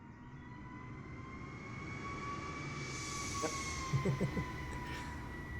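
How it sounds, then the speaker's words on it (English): A distant airplane engine drones and slowly builds in a steady whine as a plane takes off at a towered airport, with faint radio-like voice fragments briefly heard near the end. "Someone taking off on a plane there."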